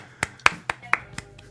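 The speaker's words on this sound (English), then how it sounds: "A little slightly louder than golf clap for that." A few light, spaced hand claps, slightly louder than a golf clap, about six in a row, close and fairly quiet, with no talking over them.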